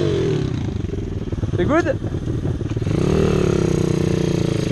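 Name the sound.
Bastos 140 dirt bike engine riding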